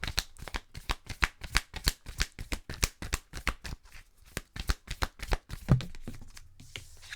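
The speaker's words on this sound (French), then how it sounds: "Je vais aller vous chercher une carte de l'oracle luminologie." A deck of oracle cards is riffled and shuffled in a long run of quick, crisp flutters with a steady rhythm, close up and fairly soft, with no talking.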